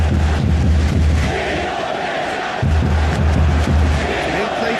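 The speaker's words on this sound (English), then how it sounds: "the crowd clearly like what they just saw" Virtual stadium crowd in eFootball PES 2021 during an Indonesia versus Malaysia football match, a loud, dense roar of cheering and chanting that swells and holds throughout, with rhythmic low thuds underneath.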